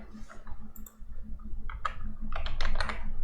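Someone types the clear command on a computer keyboard in a Debian Linux terminal, a short run of close, crisp key clicks that quicken toward the end.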